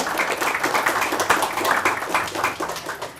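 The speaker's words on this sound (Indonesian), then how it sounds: "Boleh tepuk tangan?" Studio audience of mothers claps throughout, a dense, moderately loud patter of many hands with irregular individual claps poking through.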